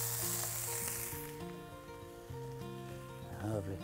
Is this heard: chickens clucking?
no